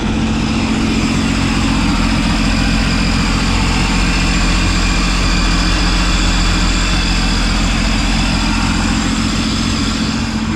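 An overhauled Sea-Doo RXT 260 jet ski engine runs at a steady idle, a loud continuous low rumble heard up close with an even, unbroken drone throughout.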